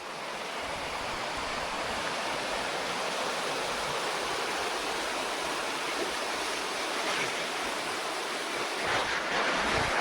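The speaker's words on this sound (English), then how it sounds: "As you can hear the rapids behind me." River rapids rush beside a hiking trail in Washington, a steady, loud, broadband roar of churning water that continues unbroken throughout.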